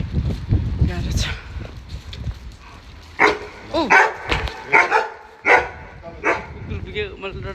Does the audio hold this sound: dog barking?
yes